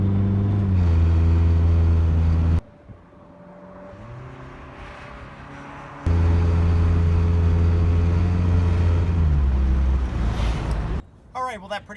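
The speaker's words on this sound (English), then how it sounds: "Taking the car here for a drive to test out the rotors." A Dodge Neon on a test drive after front rotor replacement hums with a steady engine drone, drops quieter for a few seconds, then returns loud and steady before a final shift in tone.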